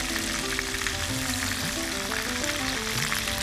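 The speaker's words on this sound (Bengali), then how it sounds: "ভাজার পরে চিংড়ি হতে খুব বেশি সময় লাগে না তাই এটা ভাজতেও খুব বেশি সময় লাগবে না" Prawns frying in hot oil in a pan, a steady dense sizzle and crackle running throughout, with faint stirring beneath and a constant low hum in the background.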